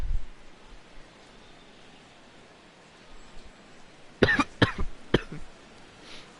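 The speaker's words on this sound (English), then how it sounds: "coughing and sniffling a lot" Several harsh coughs come in a quick cluster after a stretch of quiet room noise, close and fairly loud.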